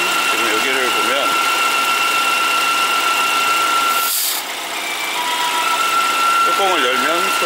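A BMW F10 528 engine with a vacuum fault idles with a steady, piercing high whistle riding over a continuous rumble. The whistle cuts out briefly midway, then returns, while voices talk nearby.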